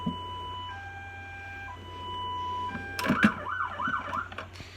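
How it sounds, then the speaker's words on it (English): A LAMPHUS SASRN01 police siren steps through steady high-low alternating tones, then shifts into a rapid warbling wail, loud and close, with no voices. "Those are all the siren tones that the siren has."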